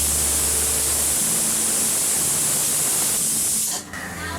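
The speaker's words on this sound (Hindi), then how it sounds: "तीन विसल हो गए हैं, हम गैस ऑफ कर देते हैं" A pressure pan cooking ragda lets out a loud, steady rushing hiss of escaping steam for several seconds before it cuts off abruptly, leaving a quieter background; no voices.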